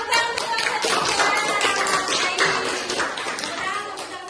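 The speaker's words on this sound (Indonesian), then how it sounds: "Oke, tepuk tangan semua." A classroom of students claps together after a presentation. The sharp, overlapping hand claps are close and lively and taper off over a few seconds, with voices heard among them.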